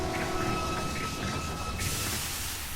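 A train rumbles faintly in Bloodstained: Ritual of the Night, a steady hiss and rolling noise with a faint tonal whine, no voices.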